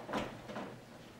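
A hospital room door is closed, giving a short soft thud followed by a fainter second knock, quiet against a still room.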